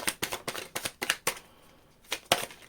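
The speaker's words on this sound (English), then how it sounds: "Last shuffle." Tarot cards are shuffled by hand in a quick series of crisp riffling bursts, then a short pause and two more snaps, faint and close.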